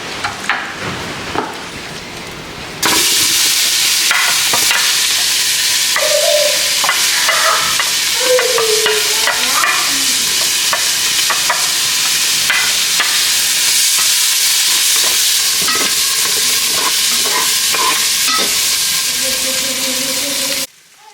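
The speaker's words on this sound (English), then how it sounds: "Now in the vegetable, I will fry in the same pot with the olive oil." Vegetables hit hot olive oil in a pot with lamb shank leftovers, bursting into a loud, sustained sizzle after a quieter start, with stirring scrapes over the constant frying until it cuts off.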